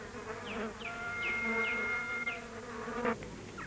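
Honeybees flying and buzzing around a feeding spot, a steady close drone with rising and falling whines as individual bees pass near, no voices.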